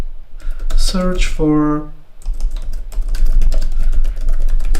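Quick keystrokes on a computer keyboard clatter in a rapid, uneven run of light clicks, close by, with a person speaking over part of it.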